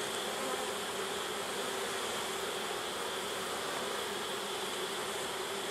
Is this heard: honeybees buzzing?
yes